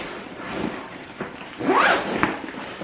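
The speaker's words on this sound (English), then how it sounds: "I could zip it up" A zipper being drawn closed on a camera backpack: a few short rasping pulls at close range, the longest and loudest near the middle, with no talk over them.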